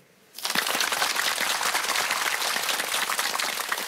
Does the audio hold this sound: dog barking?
no